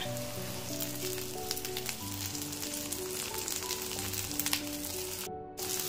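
Chopped onions sizzling and frying in a pan for a chicken parota bun, a steady close crackling hiss under a layer of background music.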